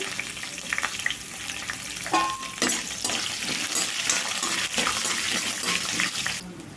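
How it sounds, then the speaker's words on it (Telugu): Oil sizzles and crackles steadily as chopped green chillies and curry leaves fry for a tempering, with a few louder spits and stirring scrapes along the way. "పచ్చిమిరపకాయ ముక్కలు కూడా బాగా వేగాలి"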